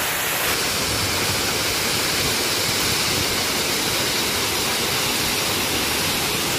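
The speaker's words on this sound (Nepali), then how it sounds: "यहाँ माथिको पानी चाहिँ यहाँ भएर उता मुनिबाट आइरहेको छ।" Water stream rushing down a hillside and across a mountain road in the hills between Siliguri and Kurseong, a steady loud broadband roar heard up close with no talk over it.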